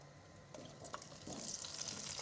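Fresh winter vegetables drop into hot oil left in a pot for vegetable biryani, and a soft sizzle swells up quietly and stays steady to the end, with no speech.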